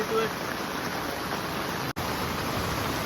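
A river swollen with floodwater, a broad, steady roar of rushing water heard close and loud, with a brief dropout near the middle.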